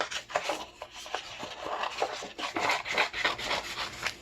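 Paper is cut to make a Valentine's Day journal card base. Close, dry rasping and scraping strokes come in quick uneven bursts, with no voices.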